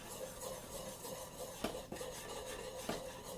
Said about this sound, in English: Adding a half a teaspoon of Pacific Beauty paprika. Give that a good stir in.